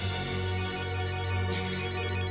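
A mobile phone rings with a repeating electronic ringtone, a tonal melodic pattern that stays steady and fairly loud throughout, with a brief brighter burst partway through and no talking.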